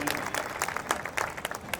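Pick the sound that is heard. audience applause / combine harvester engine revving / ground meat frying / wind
audience applause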